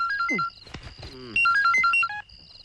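A mobile phone ringtone plays its beeping melody in short repeated tone patterns during a Malayalam comedy scene, fairly loud and close, with brief vocal sounds in between.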